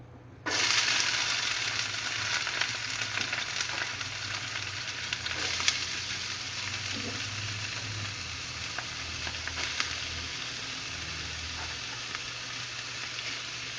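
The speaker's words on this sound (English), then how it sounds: "Now I've heated up some oil, and I'm going to add in the shallots and the celery." Shallots and celery hit hot oil and set off a sudden, loud sizzle that keeps a steady, crackling hiss for over ten seconds. The frying is close, with faint clatters now and then and no talking.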